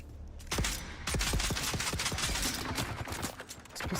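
A pistol fires again and again in Dune: Awakening, sharp close shots in an uneven rapid string over several seconds, with dense crackling impacts between them.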